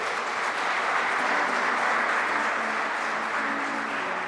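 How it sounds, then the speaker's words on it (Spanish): A congregation at an evening Mass applauds in a steady, dense wash of clapping that holds at even loudness for several seconds without any voices. "Un aplauso a mis hermanos indigentes, por favor."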